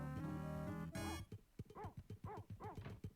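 A dog in the SNES game Paperboy 2 barks and yips in a rapid series of short, bright video-game barks, following a brief burst of game music and effects.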